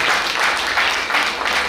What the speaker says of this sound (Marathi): मित्रांनो खरोखरच मनापासून टाळ्या वाजवा